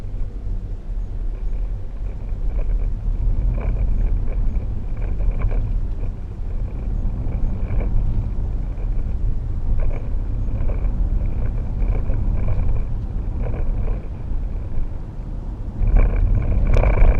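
A 2012 Range Rover Sport with the 3.0 SD V6 diesel drives along a bumpy road, giving a steady low rumble of engine and tyres from inside the cabin, with repeated soft knocks and jolts and a sharper thump near the end.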